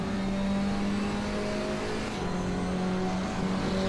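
A race car engine in a racing video game hums loudly and steadily, its pitch stepping as it shifts through the gears, with no talk over it.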